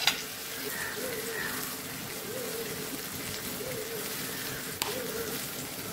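Tomatoes and asafoetida sauté in a pan with a faint, steady sizzle and crackle, plus a light clink near the end, as when making tomato chutney.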